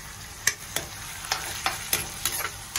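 Ginger frying in a pan while being stirred: a soft sizzle under a series of irregular scraping clicks from the utensil, fairly quiet and close.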